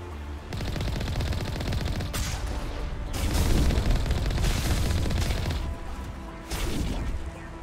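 Sustained gunfire in Mass Effect Legendary Edition on Virmire, dense automatic bursts with heavy impacts and booms rolling on for several seconds, loud and continuous with brief lulls.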